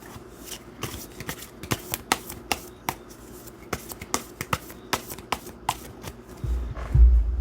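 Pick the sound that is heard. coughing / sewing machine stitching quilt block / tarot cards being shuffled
tarot cards being shuffled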